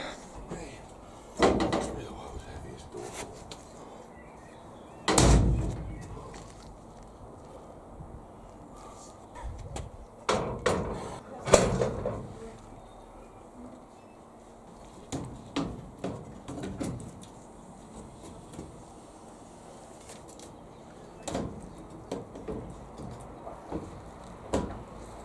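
A door is refitted on the back of a van, with scattered metallic clunks, thumps and scrapes at irregular intervals, some sharp knocks standing out against quiet outdoor ambience and occasional birdsong.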